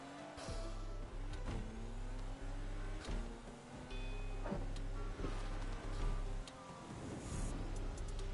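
A racing car engine drones steadily while driving in Need For Speed Unbound, holding a constant loud hum with a few gear-shift dips and revs, alone without talk.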